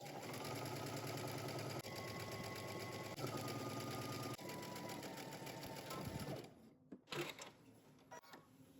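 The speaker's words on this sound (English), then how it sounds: "Now we're going to head to the sewing machine and we're going to stitch using 5/8 of an inch seam allowance" A sewing machine runs steadily, stitching a jumpsuit seam at a 5/8 inch seam allowance, working up from the hem; a loud continuous whir with brief pauses, stopping near the end followed by a few handling clicks.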